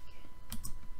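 A single crisp computer mouse click up close, short and faint against a quiet room hum, with no voice.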